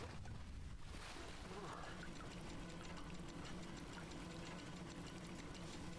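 Steaming water in a climbing video game gives a continuous hissing, bubbling wash that stays steady and fairly loud, with a brief darker dip near the start and a person talking over it.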